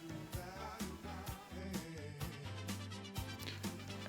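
Jamzone app playback with chords simplified to the intermediate level: a steady band groove with regular drum hits and sustained chord tones, moderately loud, with no voices.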